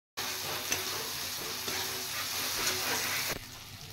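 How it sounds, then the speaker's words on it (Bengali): Fried potatoes tipped into a pan of cooked masala spiced with cumin powder for an egg curry with lentil fritters: steady loud sizzling and stirring throughout, close up, ending in an abrupt drop. "এবার আমি এখানে ভেজে রাখা আলুগুলো দিয়ে দেব।"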